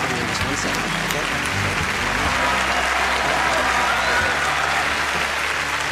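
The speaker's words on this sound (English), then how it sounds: "Give her a huge round of applause." Audience applause during a stage magic show, a dense, steady wash of clapping that holds at even loudness for the full six seconds.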